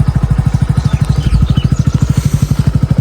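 A motorcycle engine thumps close by in a fast, regular low chug, loud and steady, as if rolling in slowly.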